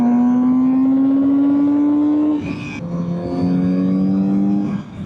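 Kawasaki Z900RS four-cylinder motorcycle engine revving loud and close, a smooth rising howl that drops sharply as the throttle closes, then builds again in a steady high note.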